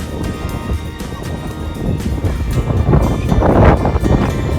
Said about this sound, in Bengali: আজকে বাতাসটা যতবারই গায়ে লাগছে ততবারই ভালো লাগছে